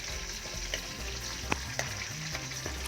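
Garlic frying in hot cooking oil for a Kapampangan mussel dish, a steady close sizzle with a few soft clicks of stirring and no talking.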